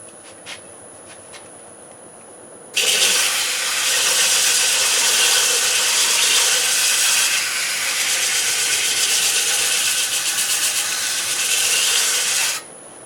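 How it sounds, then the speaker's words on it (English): A steady, loud abrasive rasp of a sanding board on wood turning on a lathe at 500 RPM starts abruptly and holds constant for about ten seconds before cutting off, over a low machine hum. "Sanding board, 500 RPM in the coal jaws."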